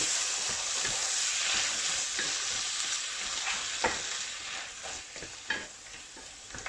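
Fish and mushroom filling with lemon and olives stirred in a pan, a continuous bright sizzle with scattered scraping and clicking of the utensil, close and steady, no voices.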